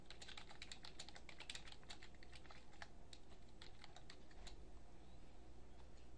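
Quiet, steady typing on a computer keyboard, a rapid run of light key clicks continuing throughout with no voices.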